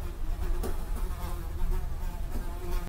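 A housefly buzzes close and loud, its drone wavering steadily for about three seconds before cutting off abruptly.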